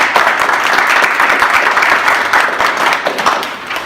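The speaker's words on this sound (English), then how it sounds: "make sure you clap for Miss Deidre, Miss Audrey, and Miss Rebecca" A crowd at a Carroll County MLK celebration applauds steadily and loudly, dense clapping from many hands sustained throughout without a break.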